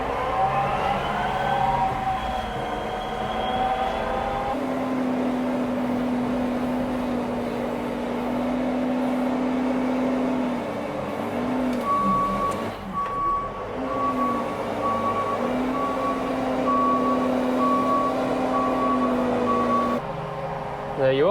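A tractor on a dairy farm runs in first gear at about 1500 RPM while spreading sand, a steady droning engine hum with shifting tonal whines and occasional beeping tones, continuous and moderately loud throughout.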